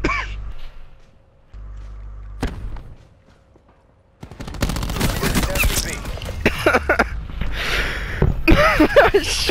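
Rapid gunfire from a Call of Duty match in league play, loud bursts and dense crackling shots filling the latter half after a quieter opening with brief sighs or breaths.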